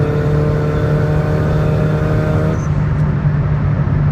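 A Toyota Vios turbo engine runs with a loud, steady, droning note rich in harmonics that holds for about two and a half seconds, then eases off into a duller, broadband rumble.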